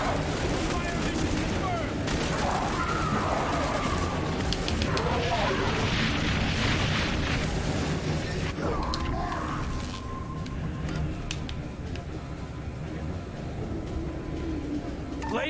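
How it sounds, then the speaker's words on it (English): Dense rolling artillery bombardment and gunfire in the video game XCOM: The Bureau, a continuous loud wash of blasts and shots with voices speaking over the battle. "Bombardment now!"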